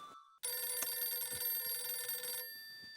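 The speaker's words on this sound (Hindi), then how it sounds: "फोन की घंटी बज रही है।" A telephone bell rings loudly and continuously for about two seconds, a bright electronic trill starting abruptly after a brief quiet moment, then cutting to a fainter tone, heard indoors in a household setting.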